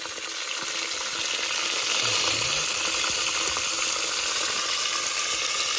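Cumin seeds sizzle in hot oil, a constant bright hiss with faint crackling that swells slightly after the first couple of seconds, close and uninterrupted by speech.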